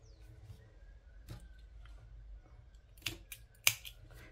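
Scissors snipping crochet thread on a raised-relief crochet bathroom set with toilet paper holder: a few quiet, sharp clicks and snips near the end, after faint handling noise close to the mic.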